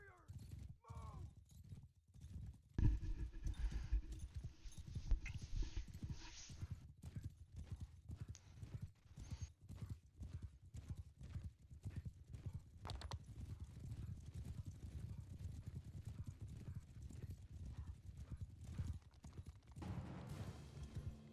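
Horses gallop in a Mount & Blade II: Bannerlord battle, a dense, continuous clip-clop of many hooves drumming steadily, with a brief whinny and scattered game sounds mixed in.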